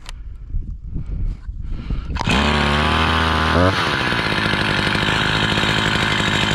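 A Husqvarna 346 XP chainsaw engine, freshly fitted with a new piston and cylinder, fires up and revs steadily, loud and close, after some faint handling noise, then settles into a continuous high idle.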